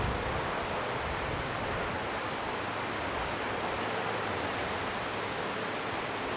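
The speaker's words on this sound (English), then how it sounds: "it looks like there's a stream just down on the side" Stream flowing beside a deck along the Blue Ridge Parkway, a constant dense wash of rushing water, even and unbroken throughout.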